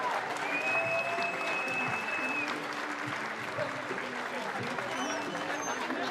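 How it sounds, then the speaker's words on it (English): Stadium crowd at Canberra United v Wellington Phoenix women's A-League football as the teams walk out at Michaela Park: a steady, loud wash of applause and crowd noise throughout, with a faint whistle-like tone early on. "the Michaela Park crowd, always loud, always parochial"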